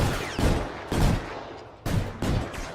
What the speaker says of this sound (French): On tire partout pour jouer RP.